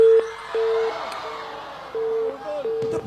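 A telephone line cut off in the middle of a call sounds a clear, steady busy signal in repeated short beeps, while a voice talks faintly in the background.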